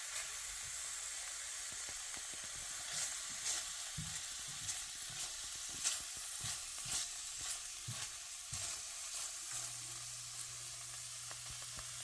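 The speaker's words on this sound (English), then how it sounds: "So this is just to toast the raisins and the almonds." Two tablespoons of raisins and a tablespoon of almond flakes toast in hot ghee, a soft, steady sizzle broken by frequent light scrapes and taps of a spoon stirring the pan, with a low hum creeping in near the end; no talking.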